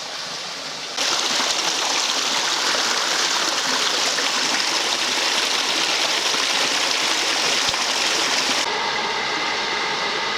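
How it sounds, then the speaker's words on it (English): A little waterfall below a footbridge on a countryside walk near a rail line rushes in a steady, close, broadband roar of falling water that starts abruptly after a quieter second and thins near the end. "Little waterfall down there."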